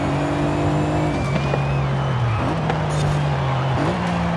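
A Mercedes-AMG E 63 S with all-wheel drive launches and accelerates in the racing game Forza Horizon 5, its engine note rising and dropping through gear shifts with a faint tire squeal, loud and steady.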